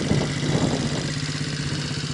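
A motorcycle engine idles close by, a steady uneven putter with slight throttle fluctuations, no talking.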